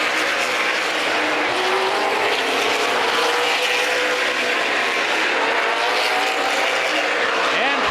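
Stock cars racing on an oval, a dense roaring engine drone with pitch sweeps as cars pass, as one car, the 63, slides off the track; loud and continuous throughout.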